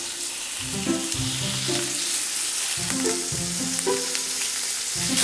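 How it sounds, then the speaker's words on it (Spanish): Pork belly browns in vegetable oil over high heat, a loud, dense sizzle running throughout with a low background hum and occasional spatter pops. "Ponemos la panceta a dorar a fuego alto porque es una pasada rápido."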